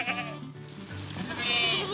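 Goats at a goat farm give several bleats in a row, wavering and nasal, near and fairly loud, with a shriller cry toward the end.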